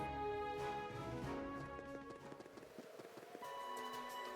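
Clip-clop of horse hooves from the Trails of Cold Steel II video game, a quiet run of taps set among sustained musical tones from the game score.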